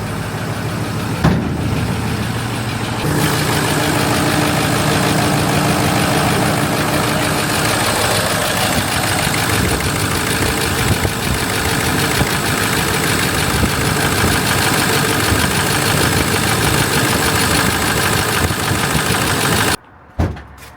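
A Ford dump truck engine runs at a steady, loud rumble while water is dumped out of the bed. The drone holds without a break and cuts out abruptly at the very end.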